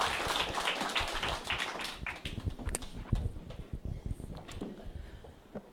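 Faint audience applause as speakers are welcomed onto a stage, a dense patter of many hands that is strongest at the start, then thins and fades into scattered taps.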